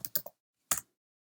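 A few quick keystrokes on a computer keyboard while HTML is typed: a fast cluster of three clicks, a pause, then a single louder tap, close and alone.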